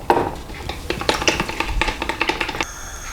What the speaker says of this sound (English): all we need to do is just whisk all of that together